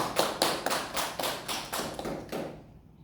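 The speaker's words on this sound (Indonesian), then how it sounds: "Beri aplaus untuk Triante" A classroom gives a short burst of applause for a student, about a dozen sharp, fairly sparse claps from a few hands that fade out after two and a half seconds.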